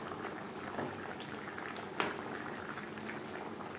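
Fish curry gravy with potatoes and gourd stems bubbles at a steady, soft boil in the pot, a quiet continuous simmer with one brief clink partway through.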